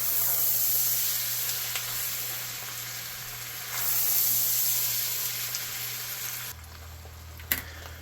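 Potatoes for a Zuppa Toscana soup sizzle and hiss steadily in a pot, a continuous close frying sound with a brief clink near the end and no talking.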